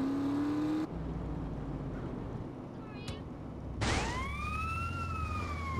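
An ambulance siren in GTA San Andreas Definitive Edition, a wailing tone that sweeps up and holds over engine rumble, cutting in abruptly after a short engine whine and a brief squeal.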